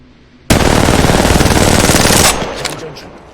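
R9N gun in a video game firing a rapid, continuous burst for nearly two seconds, loud and close, then cutting off into a short ringing tail.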